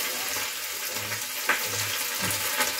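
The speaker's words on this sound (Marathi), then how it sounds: "यामध्ये हिरवी मिरची घालून घेते त्याच्यामध्ये" Green chillies sizzle in hot oil for a tempering, a loud continuous crackling fry with a few sharper pops spread through it.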